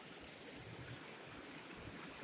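Flowing water at the Bear River headwaters along Discovery Trail, a steady broadband rush of a stream running continuously without breaks, close and even in level with no voices.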